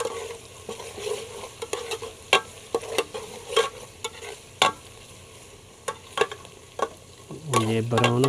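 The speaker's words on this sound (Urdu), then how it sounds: "یہ ابھی بھون رہے ہیں، یہ بھون جائیں، بہت براؤن ہو جائیں" Bitter gourd curry ingredients, browning onions among them, sizzle gently in a pan while a spoon scrapes and clatters against the metal in irregular strokes, close and fairly quiet, with a brief hiss of liquid near the end.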